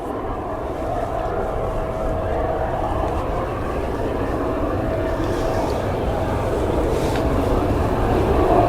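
A Jet2 airliner at Leeds Bradford Airport gives off a steady, broad jet roar that slowly grows louder, heard from a distance outdoors with wind noise.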